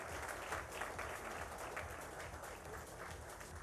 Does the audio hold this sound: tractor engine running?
no